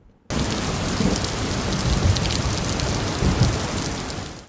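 Steady, heavy rain pours down in Rajkot without a break, a dense continuous hiss of drops hitting surfaces close by, with no voices.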